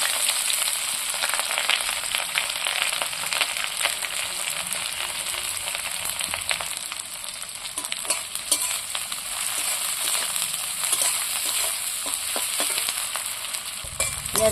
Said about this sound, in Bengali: ছোটো ছোটো করে কাটা পেঁয়াজগুলো আমি এর মধ্যে